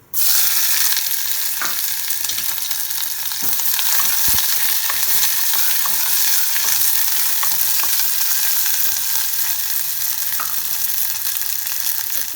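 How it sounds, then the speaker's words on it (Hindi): Thinly sliced onions with a bay leaf fry in a pan until soft and reddish, giving a loud, steady, close sizzle throughout, with a few faint knocks from stirring. "एकरा हम कनी मुलायम होय तक, लाल होय तक कनी प्याज के भूज लेबै।"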